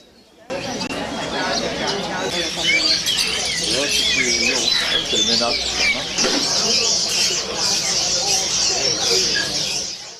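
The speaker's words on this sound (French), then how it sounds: "un marché aux oiseaux fut créé il y a quelques décennies" Caged birds at a bird market in Hong Kong chirp and tweet continuously, with some pigeon-like cooing, a dense busy chorus heard throughout under the speech of people nearby.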